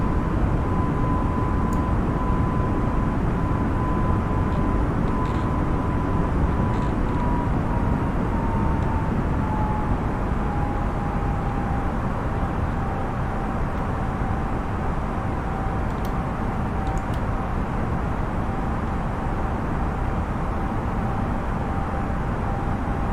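Airbus A320neo airliner climbing out in Flight Simulator 2020, its jet engines producing a steady, loud broadband roar with a faint high tone that drifts slightly lower, continuous throughout without any talk.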